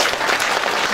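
Audience applause at a county governor's town-hall meeting in Yangdong township, a steady dense wash of clapping filling the whole short moment at an even, fairly loud level.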